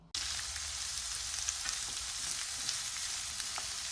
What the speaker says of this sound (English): basically we just give this a quick stir fry with these and put it in the soup